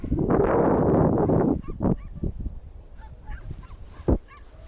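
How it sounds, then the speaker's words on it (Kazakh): Swans calling as they fly off, a loud burst of overlapping honking calls at first, then scattered fainter honks and calls trailing into the distance. "Әне аққулар кетіп бара жатыр"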